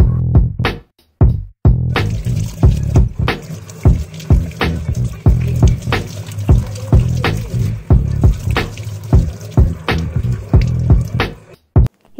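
Cut aloe vera pieces being washed under running water, a loud continuous splashing stream broken by brief pauses and repeated sloshing and dripping as the pieces are pressed and rinsed.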